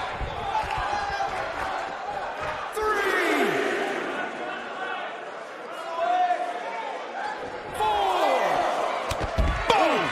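An arena crowd in the wrestling game WWE 2K19 roars and chants steadily, with thuds from the ring and sharp slams breaking through, under excited commentary voices.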